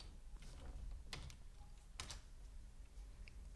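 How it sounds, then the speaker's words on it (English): A handful of faint, scattered keystrokes clack on a computer keyboard as a command to restart PHP is typed, with quiet gaps between the clicks. "You just need to type this"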